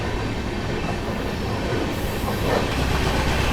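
Heard from on board, the New Delhi Lucknow AC Superfast Express (12430) runs at speed: a loud, steady rumble and roar of wheels on track, with a faint squeal near the end.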